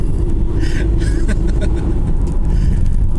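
A car rushes past on the road close by, its broad engine and tyre roar steady and loud for a few seconds over constant low rumble, heard from a moving vehicle.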